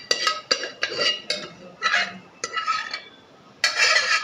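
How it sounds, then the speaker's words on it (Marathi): Dal being stirred in a kadhai with a ladle: a series of distinct metallic scrapes and clinks in uneven bursts, close and fairly loud, with a brief pause before a final longer stroke. "आधी हलवून घे कढईत"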